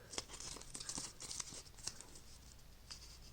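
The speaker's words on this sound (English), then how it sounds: "you just push it down over the vinyl and peel back at a very sharp angle" A vinyl sticker's backing is peeled back at a sharp angle, giving quick crinkly tearing rasps in short irregular bursts, close and fairly quiet, with no talking.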